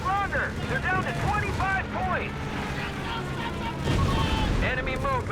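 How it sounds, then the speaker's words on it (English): Aircraft strafing run in Company of Heroes 3, heard as a loud, continuous barrage of rapid gunfire and booming impacts across the whole stretch, with a voice talking over it. "Another strafing run here."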